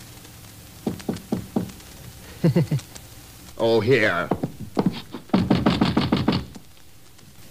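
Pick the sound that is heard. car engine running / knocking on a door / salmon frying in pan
knocking on a door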